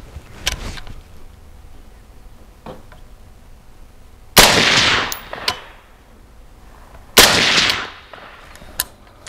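Grand Power M4M rifle fired with a flow-through suppressor, no sights: several single suppressed shots and two short rapid strings of fire, loud and close, each with a brief echoing tail.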